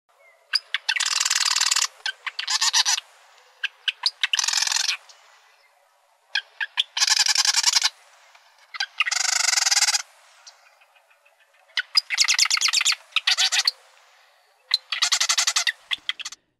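A male marsh wren sings from a Vancouver Island marsh, delivering several bursts of rapid, rattling staccato notes, each lasting about a second and separated by short pauses, loud and close with no other sounds.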